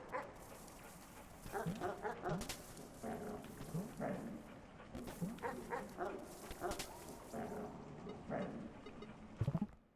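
Dog barks, yips and whimpers in the video game Animal Well, repeated through the scene at moderate loudness, with short sharp barks mixed with softer whining cries and a louder burst near the end.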